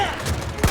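Battlefield 1 gunfire at Cape Helles: a short crackle of shots under steady battle noise, ending in a sharper, louder blast.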